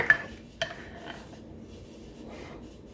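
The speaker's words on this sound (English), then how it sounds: "Here's my spoon. We want 129 to 130, so let me stir this around." A metal spoon stirs crockpot cashew chicken, giving two quick clinks against the pot at the start, followed by a low, quiet scrape and near silence.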